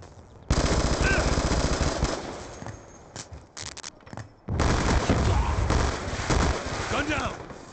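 Automatic gunfire in the Black Ops II video game rattles in loud sustained bursts, with short pauses between volleys and a heavy stretch of shooting near the end, mixed with game sounds and voices calling out.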